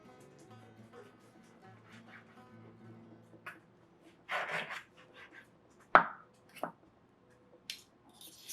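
A knife slices through cooked chicken on a board for quesadillas, with a few sharp, separate cuts and scrapes near the end, after a stretch of quiet background tone.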